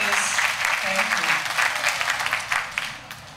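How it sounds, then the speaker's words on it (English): Applause from a crowd at a 2008 primary election rally in Hilo: dense, loud, sustained clapping that fades slightly toward the end, with faint voices underneath. "Thank you for giving him applause"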